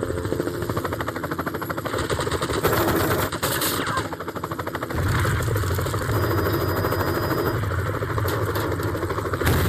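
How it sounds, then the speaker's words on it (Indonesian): An American attack helicopter's rotor drones steadily while rapid machine-gun fire rattles throughout, loud and continuous. "helikopter Amerika kembali menyerang mereka"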